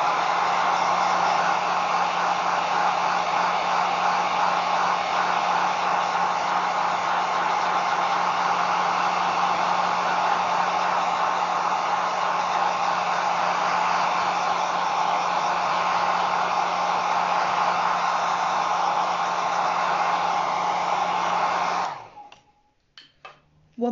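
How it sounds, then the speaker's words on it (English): Hairdryer blowing on wet paint on a slate coaster, a loud steady whooshing hum with a low electric drone, running continuously for over twenty seconds before switching off. "Excuse your ears whilst I just use my hairdryer,"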